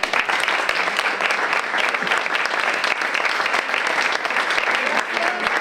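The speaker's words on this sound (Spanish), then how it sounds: "un aplauso para" Lively audience applause at a cultural storytelling event in a library, many hands clapping in a dense, even stream at moderate loudness, continuing without pause.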